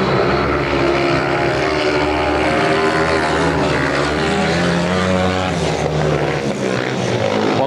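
Speedway motorcycles race around the track during an Elite League heat between Belle Vue and Oxford, a dense, continuous roar of engines close by and loud throughout.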